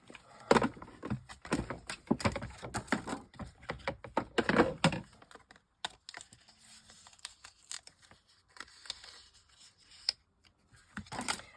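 A manual die-cutting machine cranks a die through card for a golden wedding card, giving quick ratcheting clicks and crunches, dense and fairly loud at first, then thinning to sparse, quieter clicks.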